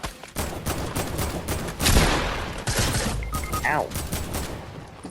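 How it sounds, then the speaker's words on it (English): Rapid bursts of gunfire rattle during a Fortnite match, dense volleys with a few sharper individual shots, loud and continuous, with a brief spoken exclamation partway through. "Hello, Mr. Person firing in the distance."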